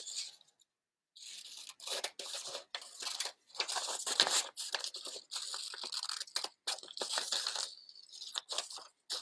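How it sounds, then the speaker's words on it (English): Scissors snip through paper to cut out a traced hook shape for a paper trolley craft, giving a steady run of close, crisp cutting and rustling strokes with only brief pauses, no talking. "Now we're gonna cut it out."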